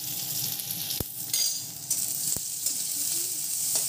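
Chopped onion sizzling in hot oil tempered with bay leaves, a dried red chili and whole cumin, a steady close frying hiss with two sharp clinks of a utensil against the pan.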